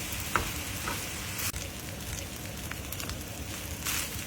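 Shrimp and cold cooked rice being stir-fried in a pan for yang chao, with a steady sizzle broken by scraping, tossing strokes and a few sharper knocks, close and continuous without speech.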